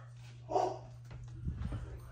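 Dogs barking indoors in a home workspace while an order of clothing is being packed, with one short bark near the start and a few softer, muffled barks and whines after it, set against a low electrical hum.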